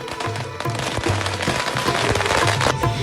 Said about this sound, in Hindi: कहीं आरती हुई, कहीं फूल बरसे तो कहीं आतिशबाजी के साथ स्वागत हुआ।